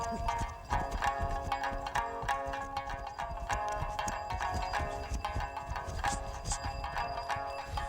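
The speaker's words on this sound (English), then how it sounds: "The Mustang horse has a special way of trotting." Hooves of a Mustang horse from Nepal's mountain plain clip-clop in a steady, quick ambling rhythm, sharp and fairly close, over a dense background.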